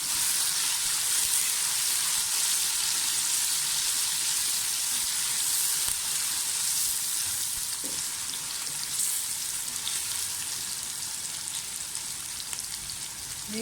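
Onions sizzle and fry in hot oil with garlic ginger paste for a bhuna mutton gosht, a steady close crackling hiss throughout with no talk.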